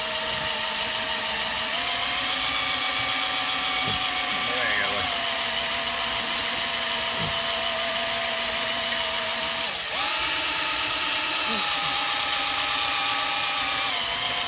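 A steady, loud power-drill whine runs throughout with small pitch shifts and a brief dip midway, close and constant, as the drill primes the oil pump of a 512 stroker Mopar engine.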